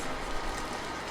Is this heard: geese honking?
no